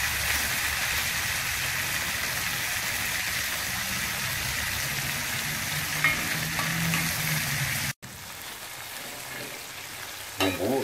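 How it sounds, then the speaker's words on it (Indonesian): Spice paste for Jambi-style sambal ikan frying steadily in a pan, a continuous close sizzle with soft stirring scrapes and a brief dropout near the end. "Goreng sampai matang."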